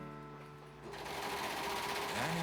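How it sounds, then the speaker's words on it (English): A home sewing machine starts up and runs steadily, its quick mechanical stitching hum building to a close, continuous whir with no talking. "all of our sewing machines"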